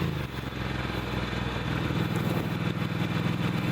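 A Ducati motorcycle engine idles close by with a low, lumpy, uneven throb that picks up slightly partway through and keeps running steadily to the end.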